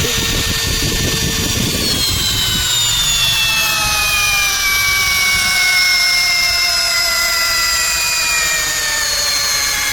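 A Grosser GCD 520Q cordless drill strains to drive a long 8 by 240 screw into wood, whining steadily and loudly at close range while its pitch slowly sinks under the load.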